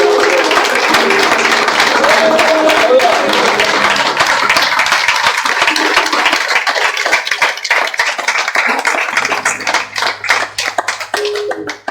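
A church congregation at a Sunday service claps together in a dense, sustained burst that thins toward the end, with voices mixed in.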